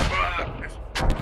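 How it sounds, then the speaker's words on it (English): A grenade blast in the military shooter Squad, a short dull boom landing about a second in, followed by a burst of broadband rumble over steady low game noise. "I threw a nade"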